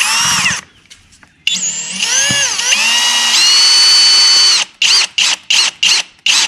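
A power drill drives a screw to mount a wireless garage door remote, a loud close whine that revs and rises in pitch as the screw bites, then a run of short, rapid trigger bursts to finish.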